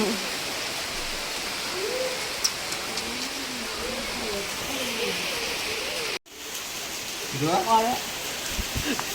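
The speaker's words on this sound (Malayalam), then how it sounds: "ഭയങ്കരമായിട്ട് പെട്ടെന്ന് മഴ വന്നു." Sudden heavy rain driven by wind pours down as a steady, loud broadband hiss, with a short break partway through and voices faintly audible beneath it.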